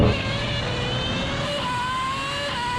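A Bugatti Chiron or a Red Bull Formula 1 car accelerating hard in a drag race, with a sustained high engine whine whose pitch climbs as it pulls away.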